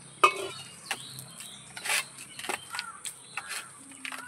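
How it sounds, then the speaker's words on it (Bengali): Palm fruit fritter batter being mixed by hand in a bowl, with soft squelching and intermittent clinks of the vessel, close and fairly quiet, with occasional faint background sounds. "এবারে আমি হাত দিয়ে মেখে নেব।"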